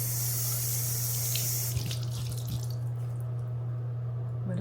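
A faucet runs in a quiet salon washroom, water streaming from the tap to wet braided hair for about two seconds before cutting off, leaving a steady low electrical hum and faint drips.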